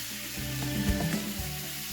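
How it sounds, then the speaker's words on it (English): Garlic and ginger sizzle in pork tenderloin pan drippings, a soft, steady frying hiss with a few brief pops and stirring scrapes near the middle. "So for our sauce, I have a mix of garlic and ginger. I'm going to start with that."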